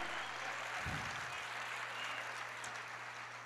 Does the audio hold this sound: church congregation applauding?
yes